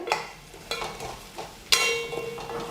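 Masala and onions sautéed in oil in a pan for Tirunelveli-style fish kuzhambu, with a soft sizzle and several spatula scrapes and clanks, one louder clatter near the end.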